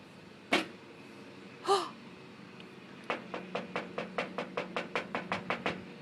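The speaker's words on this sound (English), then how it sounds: "Rocky's knocking at the door." Knocking on a door at home: two separate knocks, then a quick, steady run of about a dozen raps, close and fairly loud, with no voices.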